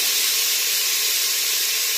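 Tomatoes and peas hit a pan of frying carrots and potatoes, giving a steady, loud, unbroken hiss of steam and sizzle with no talking.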